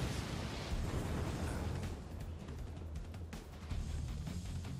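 Explosion in the video game Crisis Core Reunion, a dense continuous roar of rumbling blast noise with scattered bursts and crackles, loud and sustained throughout.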